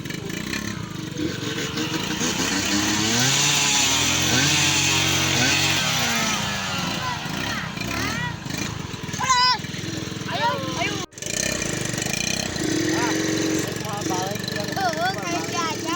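A motorcycle engine revs loudly and close, its pitch rising and falling in surges, with people talking over it and a brief cut partway through.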